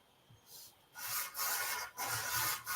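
Light sandpaper sanding on a tank, done with almost no pressure, giving soft raspy rubbing strokes in several short bursts, close and fairly quiet.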